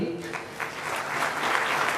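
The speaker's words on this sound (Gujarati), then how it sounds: "આપને પણ વિનંતી, તાળીઓના ગડગડાટથી" An audience at a legal seminar claps in a brief, dense burst of applause that holds steady and swells slightly toward the end, with a voice faintly heard at the start.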